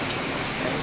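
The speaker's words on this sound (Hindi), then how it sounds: "पूरी तेज बारिश है।" Heavy rain pours steadily as a dense, even hiss of drops drumming on surfaces, close and continuous with no pauses.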